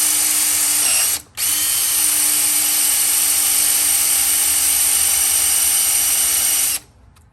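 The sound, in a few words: drilling a hole into a bolt on a Cummins NTC-365 engine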